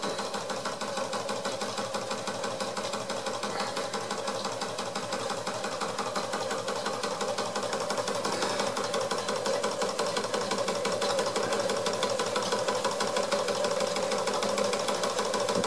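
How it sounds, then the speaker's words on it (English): A small Wilesco D6 model steam engine chugs steadily with rapid, even mechanical beats, a continuous close clatter running throughout with no voices. "D6 is a really nice little engine."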